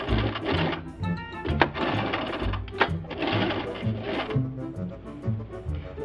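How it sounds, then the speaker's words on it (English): A sewing machine stitches through elastic, back and forth with zigzag work, running in short rapid bursts of needle chatter broken by brief pauses and clicks, close and fairly loud. "And then I'm going to sew through the elastic."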